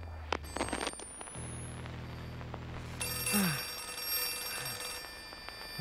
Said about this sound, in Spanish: Estaba por una sala acá, lo escuchaba.